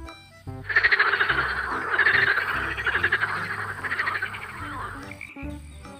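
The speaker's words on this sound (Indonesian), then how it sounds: "ini ada hewan hijau lagi, namanya kodok" A frog croaks loudly and close up in a steady, pulsing run of rasping calls that lasts several seconds, then stops abruptly.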